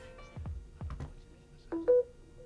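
A Samsung Galaxy Z Fold 3 in an official flip cover S Pen case sounds a short electronic chime as wireless charging starts, a clear rising pair of tones after a few soft handling knocks, close and alone.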